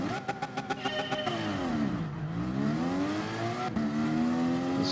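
Race cars launching from the start at Goodwood in GT Sport, including a Lexus, a Huracan and a Subaru. Engines rev hard in quick pulses, then pitch dips and climbs through gear changes, loud and close.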